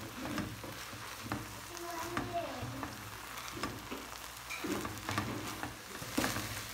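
Ground beef seasoned with chimichurri and onion sizzles in a frying pan while a utensil scrapes and taps as it's stirred, a quiet uneven crackle with intermittent clinks.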